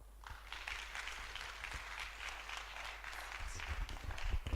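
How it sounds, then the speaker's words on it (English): Applause from an audience at a women in construction forum, a steady wash of clapping at moderate level that swells slightly toward the end, with no talk over it. "Let's give her another round of applause, please."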